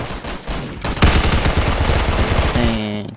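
Rapid automatic gunfire in the Roblox shooter Arsenal, a dense burst of loud repeated shots running for about two seconds after a brief lead-in, then trailing off.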